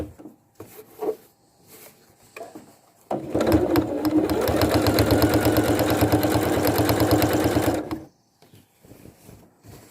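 Light handling clicks and rustles of fabric, then a sewing machine starts and stitches a hem on a surgical gown in a steady, fast mechanical chatter for about five seconds before stopping, followed by more quiet handling.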